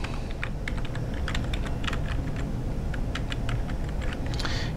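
A database user name is typed on a computer keyboard, with a steady run of quick, crisp keystrokes over a constant background hum and no one speaking.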